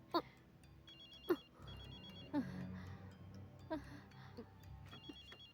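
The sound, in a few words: telephone ringing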